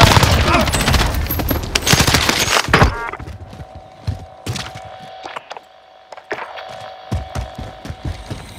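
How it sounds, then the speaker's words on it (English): Rapid gunfire crackles in a battle royale video game, a dense loud volley at first, then thinning into scattered single shots and distant bursts over a constant background hum. "I am under fire!"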